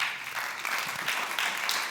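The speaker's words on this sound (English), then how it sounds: "everyone, a round of applause for Oliver and his film again" Audience applause after a filmmaker's talk on food security, a fairly quiet, steady patter of clapping from a small indoor crowd, continuous throughout.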